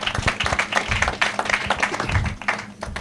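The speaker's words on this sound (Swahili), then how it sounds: "wapigeni makofi wakikuja" A crowd at a burial service claps as visiting pastors come forward, a dense run of applause that holds steady at moderate volume.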